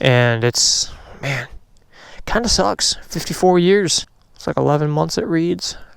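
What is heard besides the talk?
No everyday noise stands out behind the speech.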